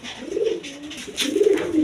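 A pair of red-coloured pigeons at a breeder's pigeon sale coo in soft, low, rolling bursts, close by with no talking, two swelling phrases in quick succession.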